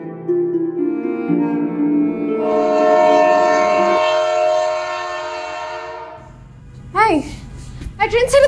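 A train leaving the station sounds a long, steady horn blast lasting about six seconds, which then drops away and gives way to a few sharp, rising chirps near the end.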